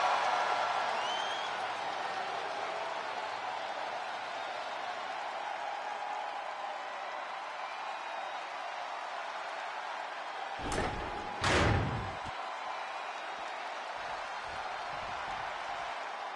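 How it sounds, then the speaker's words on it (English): Arena crowd noise in the wrestling video game WWE 2K25, a steady roaring wash of cheering throughout, with two brief sharp thuds near the end. "The crowd is on their feet for the Empress of Tomorrow."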